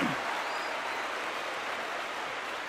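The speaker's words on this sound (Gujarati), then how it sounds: "તાળીઓ એ તમામ બાળકો માટે થઈ જાય." Sustained applause from an audience clapping for schoolchildren at a board-exam guidance session, a steady dense patter at moderate level throughout with no talk over it.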